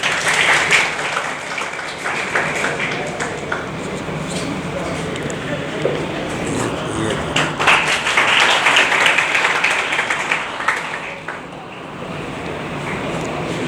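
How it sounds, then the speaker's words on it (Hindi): Crowd applause at a NEET-2022 student felicitation ceremony, sustained and noisy, with voices mixed into the clapping throughout. "तालियां बजती रहनी चाहिए भैया"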